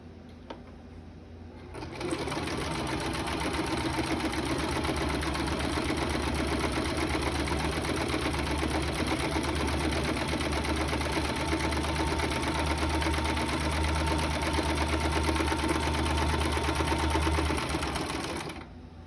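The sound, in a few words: sewing machine stitching fabric mask quarters together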